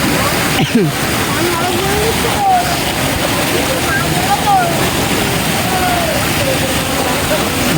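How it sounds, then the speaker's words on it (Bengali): Floodwater from a breached river embankment rushes fast along a village road, a continuous broad roar of moving water, while people nearby talk over it. "যে রাস্তা দিয়ে প্রচুর জোরে জল যাচ্ছে"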